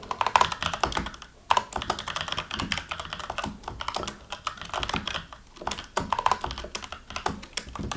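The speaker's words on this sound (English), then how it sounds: "if I type something like" Typing on a computer keyboard, with quick irregular bursts of key clicks and brief pauses in between. The keys sound close and moderately loud, with no voices.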